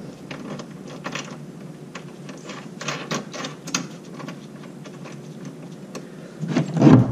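A socket wrench ratchets a nut tight on the seat harness mount of a Polaris RZR, giving a steady run of fast clicking strokes close to the mic with a brief louder clatter near the end.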